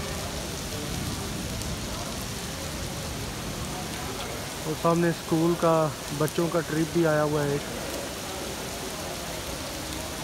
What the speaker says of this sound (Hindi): तकरीबन आधे घंटे से स्टिल बारिश हो रही है